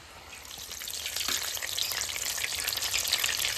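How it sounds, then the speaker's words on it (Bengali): Chop fritters fry in hot oil, a steady dense sizzle that swells after the first moment and holds loud and close, with no voices over it. "গরম গরম চপ ভাজা হচ্ছে"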